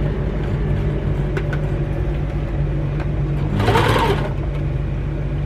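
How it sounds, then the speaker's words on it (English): Sewing machine running steadily while stitching a quarter-inch seam through quilt fabric for a star block, a close continuous motor whir with a slight brighter swell near the end. "I'm just sewing my quarter inch"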